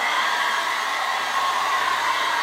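A hair dryer blows steadily and loudly up close while drying curly hair, a constant airy whoosh with no talking.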